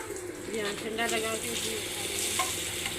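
Potatoes going into a pan of frying spices with turmeric and fenugreek at home, giving a close, bright sizzle with stirring scrapes and a watery hiss throughout.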